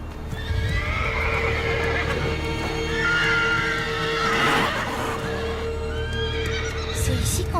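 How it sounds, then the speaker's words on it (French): Horses whinny and neigh close by, with hooves clip-clopping underneath as a steady background rumble of hoofbeats and movement runs throughout; a brief voice may be faintly present. "Des chevaux."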